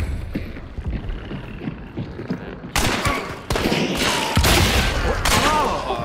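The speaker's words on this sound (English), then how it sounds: "My shot didn't go through, but his did." Bursts of gunfire from a video game shooter, several loud broadband shots in quick succession after a quieter stretch of background noise, with faint movement sounds underneath.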